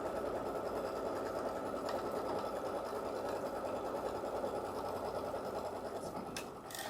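An embroidery machine runs a tacking stitch on a folded fabric border in the hoop, giving a continuous, even mechanical whirring that holds steady throughout, with a faint click near the end.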